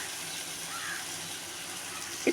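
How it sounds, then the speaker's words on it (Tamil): A tumbler of water poured into a simmering Chettinad-style eggplant and peanut curry, a faint, steady splashing wash that stays low throughout with a small knock near the end. "வேகிறதுக்காக ஒரு டம்ளர் அளவுக்கு நான் தண்ணி ஊற்றிக்கிறேன்"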